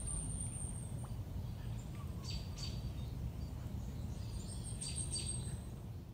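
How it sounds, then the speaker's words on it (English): Birds singing in trees on a quiet morning, heard as a few faint, high chirps scattered over a steady low background hiss. "I like the sound of birds in the trees, especially on a quiet morning."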